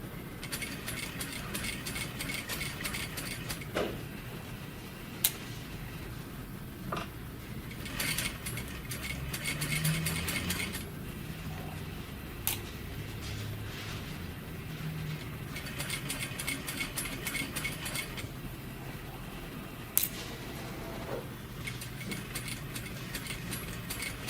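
A sewing machine runs in bursts while stitching a shirt sleeve placket, a rapid mechanical whirring with fast ticking needle strokes that stops and restarts several times, broken by occasional sharp clicks.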